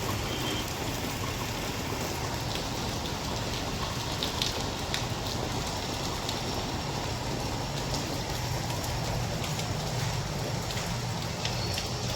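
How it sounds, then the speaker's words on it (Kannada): Steady rain falls throughout as a dense, even wash of noise, with some faint patters on a surface and no voices. "ಬಂದು 5 ನಿಮಿಷಕ್ಕೆ ಮಳೆ ಸ್ಟಾರ್ಟ್ ಆಯಿತು"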